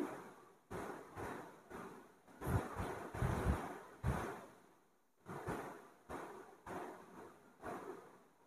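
Rice for Bengali basanti pulao is washed in water, giving a run of close, rhythmic sloshing swishes in short bursts with brief pauses between them and no talking.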